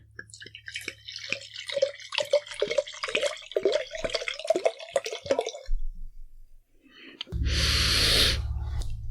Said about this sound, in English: let's give it a nice pour.